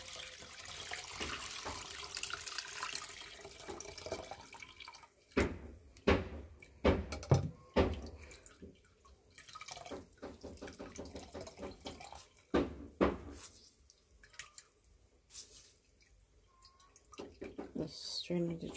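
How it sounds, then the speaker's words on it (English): Juice being strained while cooking Jamaican brown stew pork with rice and peas, with intermittent dripping and splashing of liquid, clattering, and a voice talking over it. "Just strain the juice."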